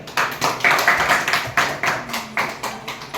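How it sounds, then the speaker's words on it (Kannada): An audience of girls at a Yoga Day and birthday celebration in Kalaburagi claps loudly, a dense and fairly close burst of clapping in uneven pulses that lasts the whole moment. "ಜೋರ ಚಪ್ಪಾಳೆ."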